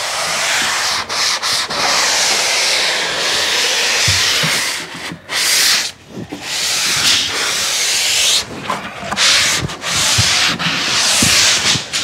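A Makita drywall sander with an attached vacuum sands a ceiling, running steadily with a loud, rough hissing whir, dipping briefly a few times as it moves across the surface.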